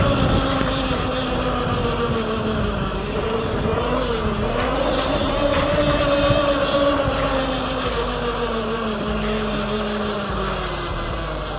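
Steady roaring wind rush buffets the microphone while riding an electric mini bike, loud and continuous throughout with a faint whine underneath and no talking.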